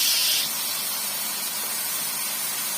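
Alexandrian-style liver dropped into a hot frying pan, giving a sharp burst of sizzle that settles into a steady, close hiss that fills the whole moment, with no talk over it.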